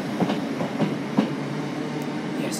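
Class 319 electric multiple unit 319374 at Manchester Oxford Road station, a steady rolling rumble with a few soft rhythmic wheel clacks over rail joints, moderately close and without voices.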